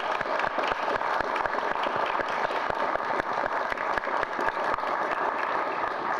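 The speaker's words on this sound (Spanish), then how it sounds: "Y yo les mandaría un aplauso para ellos" A crowd applauds at a press conference in Honduras, steady dense clapping held at an even level throughout, with no voices standing out.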